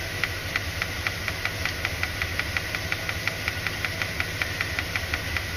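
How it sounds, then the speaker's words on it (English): A Corvette engine with an OBD1-era setup idles steadily with a fast, regular ticking pulse over a low hum, held near and even while the RPM is raised from about 725. "we'll increase the RPM a whole bunch"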